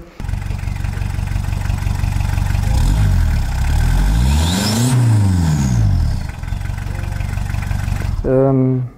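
A VW T3 Transporter van's turbo diesel engine revs up and falls back twice in rising and falling sweeps, then settles into a steady idle, loud and close; the exhaust runs through a cherry bomb muffler.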